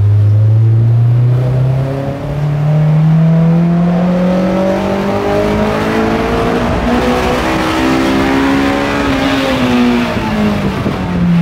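A naturally aspirated Japanese car engine revving loud and close, climbing in a long smooth pitch sweep toward nearly 9000 rpm and holding a high, singing wail.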